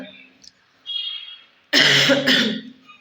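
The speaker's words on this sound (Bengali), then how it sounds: "হালকা মতন কাশি আছে" Two loud, harsh coughs close to the mic after a quieter stretch with faint voice-like sounds.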